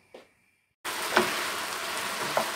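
After a brief quiet, a steady close sizzle of liver sautéing in a pan starts and continues, with a couple of soft clinks.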